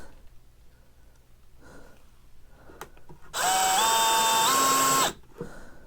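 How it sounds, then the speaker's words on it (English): A power drill whirs up and drives a Torx screw into a wooden board for a beaver skinning rack, a loud sustained whine lasting under two seconds that shifts pitch as it bites, with quiet handling noise before and after. "now I'm going to put screws in all these, and I'm going to use these Torx screws again."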